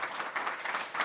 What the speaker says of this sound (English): So let's give it a round of applause to Mr. Bain.